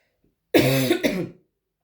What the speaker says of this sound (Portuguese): Peço desculpa pela minha tosse.